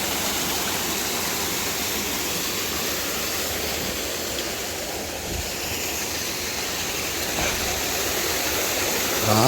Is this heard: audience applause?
no